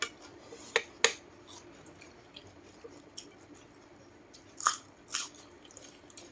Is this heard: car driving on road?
no